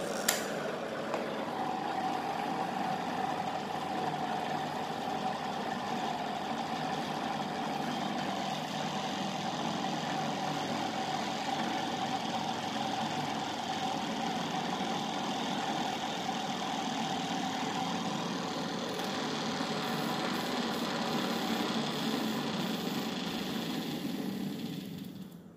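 A powerful AC 230V permanent magnet motor with a dual reed switch runs without a controller, giving a continuous, even mechanical hum and whir that holds steady for the whole stretch with no voices.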